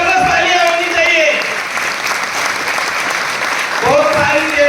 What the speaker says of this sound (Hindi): जोरदार जबरदस्त तालियां होनी चाहिए।